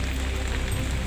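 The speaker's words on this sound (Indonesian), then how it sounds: "malam-malam cuma hujan lagi bah ini" Steady rain falls at night around an old Dutch colonial cemetery, a dense, even hiss with a low rumble that holds for about a second and carries no voices.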